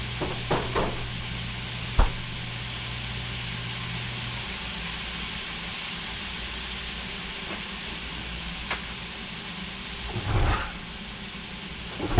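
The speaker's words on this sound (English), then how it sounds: "it says to brown the onion and the meat together" Onion and ground meat browning together in a pan for a hamburger casserole, giving a steady, even sizzle throughout, broken by a few sharp clicks and a brief clatter near the end.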